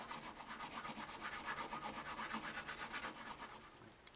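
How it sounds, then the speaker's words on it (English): A fine grit file rubs back and forth on the nut of a Martin D15 acoustic guitar in quick, even rasping strokes, close but quiet, with no speech. "I'm just sort of taking the file marks out of it right now. Let me do the fine grit file."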